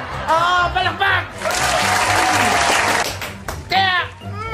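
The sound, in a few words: audience applause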